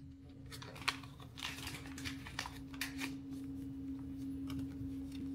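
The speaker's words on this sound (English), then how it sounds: "So let's open up the installation kit." Soft crinkling and papery rustles as a screen protector installation kit is opened, close and quiet with a few light clicks over a faint steady hum.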